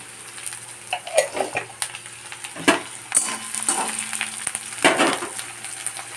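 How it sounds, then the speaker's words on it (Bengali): Nigella seeds tempering in hot oil in a pan for a Bengali potato and drumstick-flower curry, a soft sizzle broken by sharp crackles and pops and a few clinks of utensil against the pan. "এখানে আমি কালো জিরে ফোড়ন দিয়ে দেবো"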